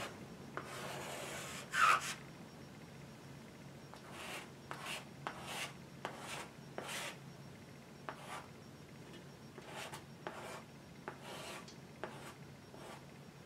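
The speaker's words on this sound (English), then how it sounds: "You can also take your palette knives and create an even more unique look in terms of texture." A palette knife smooths paint across a canvas in a series of soft, scraping rubs, roughly a dozen separate strokes at an uneven pace, quiet and close.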